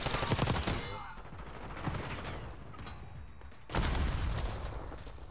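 Gunfire in Black Ops 6 Search and Destroy: loud rapid automatic bursts up front, a quieter stretch of scattered shots, then another heavy burst near the end, close and punchy.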